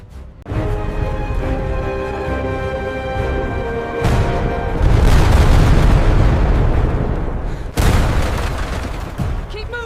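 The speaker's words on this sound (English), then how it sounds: "the ground shakes as bombs fall in the distance, then nearer" Bombs fall on a village during the German attack of Operation Barbarossa, a dense rumbling roar broken by two sudden, heavy blasts partway through and near the end, the booms seeming to draw closer.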